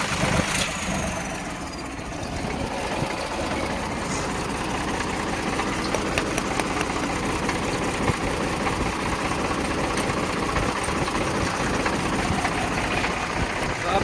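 A Mahindra 295 tractor engine runs at a steady idle, with a continuous close mechanical rumble and no clear changes in pace across the whole stretch.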